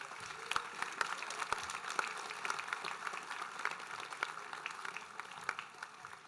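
An audience at an eighth-grade honors day ceremony gives steady applause for the advisors, a soft, distant patter of many hands clapping that continues evenly throughout.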